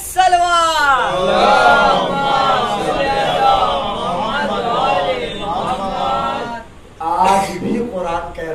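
A large gathering at a Muharram majlis chants religious slogans together, loud massed voices rising and falling in long sustained calls, one after another and close, with a brief drop before a final chant.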